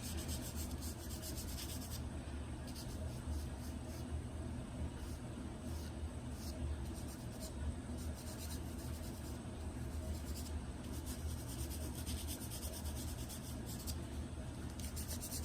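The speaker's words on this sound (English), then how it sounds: "I'm gonna press even lighter, barely touching my paper, and just kind of scribble in some light" Charcoal scribbles lightly across drawing paper in a soft, continuous scratchy rubbing, close and faint, with brief pauses in the strokes and no talking.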